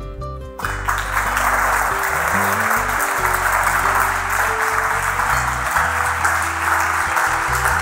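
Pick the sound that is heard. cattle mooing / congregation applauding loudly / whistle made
congregation applauding loudly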